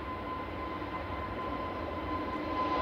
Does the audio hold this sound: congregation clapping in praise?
no